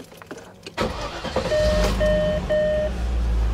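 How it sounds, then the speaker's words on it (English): A car engine cranks and catches after a few clicks, settling into a steady low idle rumble, while a repeating electronic beep from a plugged-in OBDII code reader sounds several times over the running engine. "So let's turn on the car"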